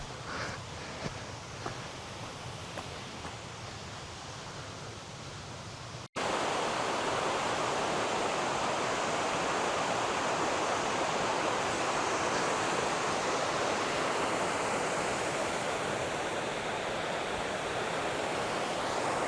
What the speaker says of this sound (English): There she is, look, the waterfall.